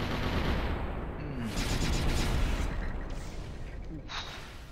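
Cannon volleys striking skeleton units in the strategy game Symphony of War: a dense, rumbling series of booming shots and impacts under game music, moderately loud throughout.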